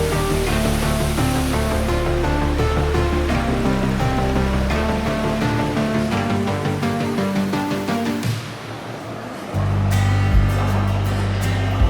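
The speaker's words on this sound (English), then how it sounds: "With a height of 33 metres, the waterfall is one of the park's main natural attractions." Steady, full rushing roar of a 33-metre waterfall in a Japanese park, loud and continuous, with a brief dip in the low rumble near the end.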